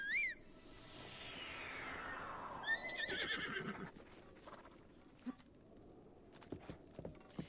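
A horse in Zelda: Breath of the Wild whinnies loudly at the start, then a string of hoof clip-clops and game sound effects follows, with a second neigh midway and scattered quieter hoof taps afterward.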